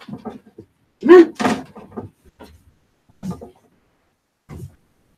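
A house door is opened to let a dog in, with a couple of dull knocks and bumps among short bursts of a person talking and scattered quieter movement.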